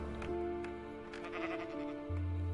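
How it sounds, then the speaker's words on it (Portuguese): A sheep bleats in the Minecraft video game, a short game-style bleat standing out over steady background music and tones, with no talking. "Tem uma ovelha comendo coisa do meu lado aí."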